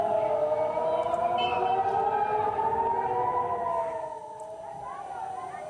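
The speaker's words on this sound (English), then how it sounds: "Sirens have been sounding in Israel as a result of Iranian attacks." An air raid siren wails in Israel, a loud rising and falling tone that sustains and then fades slightly toward the end.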